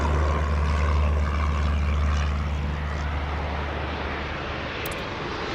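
Airplane in the Airport Madness air-traffic game, a steady loud engine roar that slowly fades as it lands, with no talk.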